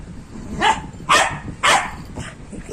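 Three sharp, close barks from an agitated dog, about half a second apart, followed by a fainter trailing yelp, with no voices.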